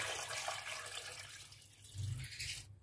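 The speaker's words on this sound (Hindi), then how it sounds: "पानी शामिल कर देंगे ताकि ये इसमें डूब जाए" Water pours and splashes into a bowl of salted chicken, a soft running stream that swells briefly before cutting off, fairly quiet and close.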